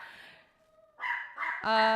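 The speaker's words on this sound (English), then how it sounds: "They're barking." A few short yappy barks from a small dog, the last one higher and sharper, after a brief quieter whine; fairly close.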